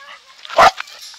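A single sharp dog bark, fairly close, standing out over a quiet outdoor background.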